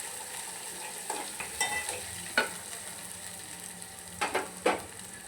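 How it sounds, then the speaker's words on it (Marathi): Green chilies sizzle softly in a little oil in a pan, with a steady low frying hiss broken by several short scraping stirs of a spatula, quiet and close. "मस्त भाजून घ्यायचं याला 2 मिनिटं, कच्चापणा घालून टाकायचा मिरचीचा।"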